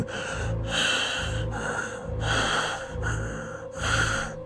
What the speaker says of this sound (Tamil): கோவத்தோட மூச்சு விடுற அந்த ஒரு சத்தம்